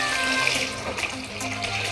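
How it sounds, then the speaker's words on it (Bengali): Water pouring steadily from a tap into a small inflatable mini swimming pool outdoors, a continuous close splashing rush running the whole time with no voices. "মিনি সুইমিং পুল বানিয়ে দিচ্ছি"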